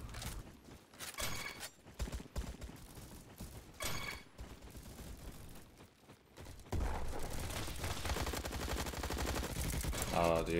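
Hip-fired bursts from a gun in Roblox Bad Business crackle in scattered rapid volleys, with a denser stretch of mechanical firing toward the end amid game noise.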